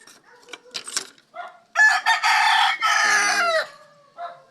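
A rooster crows loudly nearby in a long, drawn-out call, preceded by softer clucks and followed by a brief cluck at the end.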